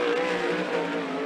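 A 410 sprint car, the number 66, runs hot laps at Skagit Speedway with a loud, continuous, high-revving engine roar across the whole brief moment, with no talking.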